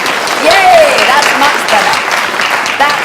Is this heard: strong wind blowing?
no